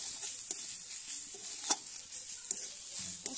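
Potatoes frying with turmeric and chili powder in a pan, a quiet steady sizzle with occasional light stirring clicks, close and without talk.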